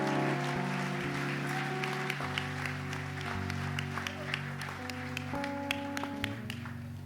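Applause and cheering for Jesus Christ ring through a church service in Geneva, as steady crowd clapping and acclaim hold through the whole stretch with an organ or keyboard chord sustained underneath.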